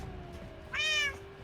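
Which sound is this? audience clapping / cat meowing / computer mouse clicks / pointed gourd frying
cat meowing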